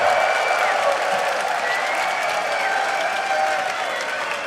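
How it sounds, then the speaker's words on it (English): Steady audience applause fills the hall at a League of Legends LCS EU esports match between The Alliance and Copenhagen Wolves, a dense, even clapping texture holding at constant loudness throughout, without cheering peaks. "And I think an applause is in order for Youngbuck indeed."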